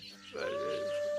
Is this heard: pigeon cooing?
yes